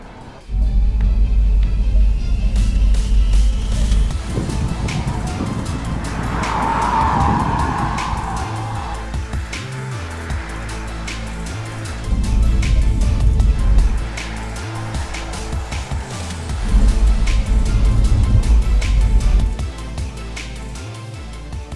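Porsche Mission E electric car driving at Porsche's Weissach test track, with loud surging passes, tyre noise and skidding, swelling and fading in several waves with brief quieter gaps.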